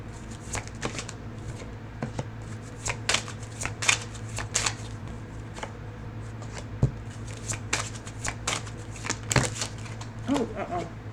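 Tarot cards being shuffled by hand, with quick, papery riffles and flicks arriving in uneven bursts over a low, steady background hum.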